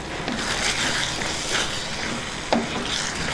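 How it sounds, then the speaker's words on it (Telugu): Bottle gourd stew being stirred in a pan for a traditional Andhra recipe gives a soft, continuous scraping and sizzling, with one brief sharper utensil knock near the end. "దీన్ని ఒకసారి బాగా కలుపుకుందాం."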